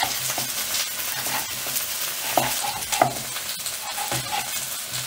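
Chopped tomatoes frying with strips of chili and onion in a pan, a steady soft sizzle with occasional stirring scrapes and light clinks, no talking.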